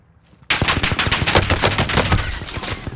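Sustained rapid gunfire in the Warzone video game erupts suddenly after a quiet moment, a loud close burst of automatic shots that rattles on for over two seconds without pause or speech.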